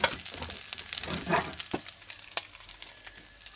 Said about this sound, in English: my lamb and beef stir fry